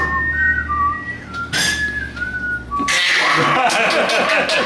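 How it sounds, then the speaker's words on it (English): Thin, wavering whistled notes from a child come in short bursts, then give way to a louder stretch of noisy clatter and background voices. "Let's see you whistle."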